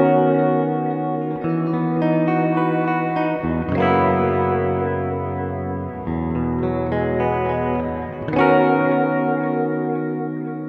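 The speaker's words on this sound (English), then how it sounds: "That space echo was sounding pretty nice." Electric guitar run through a Space Echo tape-delay effect from a Neuro-controlled pedal: sustained chords and notes bloom with repeating echoes and a warm chorus-like wash, played alone at steady volume with a few fresh strums.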